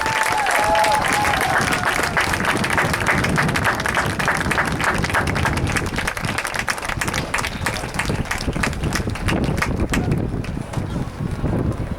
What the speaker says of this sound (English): let's give them a big round of applause as they exit the field